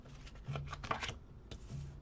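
A deck of cards being shuffled by hand, with a couple of short riffling bursts and soft snaps, quiet and close.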